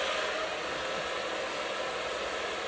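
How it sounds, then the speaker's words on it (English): A handheld blow dryer runs steadily while styling short hair for volume, giving a continuous, close, even airy whoosh with no talking throughout. "get my blow dryer on the other side"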